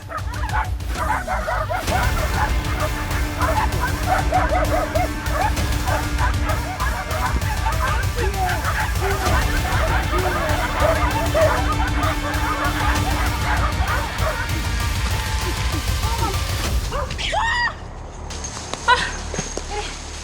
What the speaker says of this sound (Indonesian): Tiba-tiba dari kejauhan terdengar gonggongan anjing.